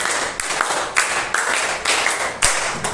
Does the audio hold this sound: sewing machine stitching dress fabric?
no